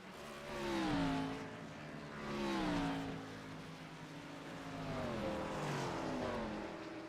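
Race car at a Thursday night short-track race pulling into its pit, engine note rising and falling in several swells as cars accelerate and ease off, moderately distant with no voices.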